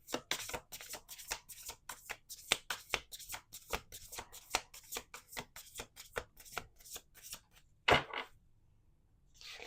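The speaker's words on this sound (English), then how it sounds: "Last shuffle." Tarot cards shuffled by hand in a quick series of crisp riffling bursts, steady and close, with a sharper snap near the end and no talking over it.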